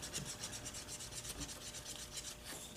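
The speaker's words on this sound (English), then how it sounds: "But you just want to start polishing your beveled edges." Leather sheath edges, beveled and still moist, being polished with a steady back-and-forth rubbing rasp that runs close and continuous throughout.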